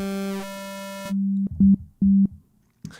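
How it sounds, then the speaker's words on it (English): A square wave synth tone in Reaper plays a sustained buzzy note and then a few short, clipped repeated pulses with gaps between them, loud and dry with no voice. "I don't think I want a square wave after all"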